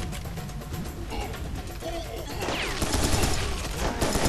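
Shotguns and other weapons fire in the video game Serious Sam 3 BFE, a dense, loud barrage of overlapping blasts that builds in intensity, with game effects mixed in.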